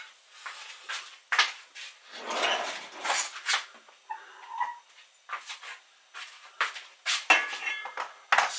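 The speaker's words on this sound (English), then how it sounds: "Now, I'm going to toast these things off in this pan." Fenugreek seeds toasting in a pan for an Indian red chilli pickle, heard as soft scattered rattles and light scraping clinks of seeds and utensil against the pan, close and fairly quiet, with no talk.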